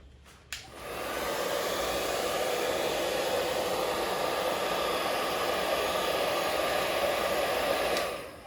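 A heat gun blows steadily while warming and sealing the edges of a dirt bike graphic kit, a continuous airy roar that starts after a brief click and runs nearly unbroken before cutting off near the end.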